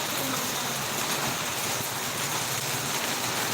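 Heavy rain from a super typhoon in Pampanga pours down as a steady, dense roar of broadband noise with gusting wind, continuous and loud throughout without clear pauses.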